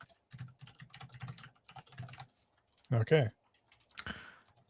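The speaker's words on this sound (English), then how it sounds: "I can't see what you're typing." Computer keyboard typing during a call-in show, a couple of brief bursts of key clicks alongside close conversational talk.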